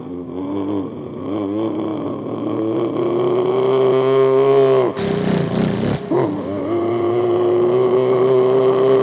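A voice imitates a motorcycle engine, a buzzing, droning hum that rises in pitch like revving, breaks into a short rough burst, then settles back into a steady idling drone, loud and close.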